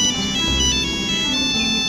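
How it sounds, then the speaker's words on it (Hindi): Phone ringtone of an incoming call, a steady electronic tune playing clearly and fairly loud, with no talk over it. "दादे जी का फोन।"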